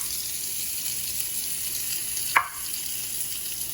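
Beyond Meat burger patties fry in a pan with a constant even sizzle, broken by one brief sharp clatter partway through.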